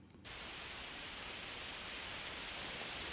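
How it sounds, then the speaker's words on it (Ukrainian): A steady, even hiss of rain pours down without pause, soft and uniform, beginning abruptly after a brief quiet moment. "Дощ іде."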